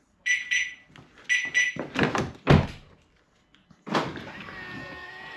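Range Rover door shut with a solid thunk, followed by a series of electronic lock beeps and clicks in quick bursts, then a longer ringing tone; close and fairly loud with no talk.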